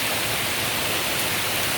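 A countryside river rushes steadily on a Saturday morning near a cow bush, giving a dense, even broadband wash of flowing water, close and fairly loud, with no voices over it.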